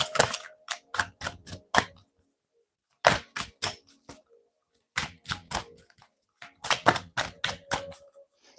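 Cards are handled in quick bursts of crisp, clicking snaps, several rapid flurries separated by short pauses, close and clear with no talking.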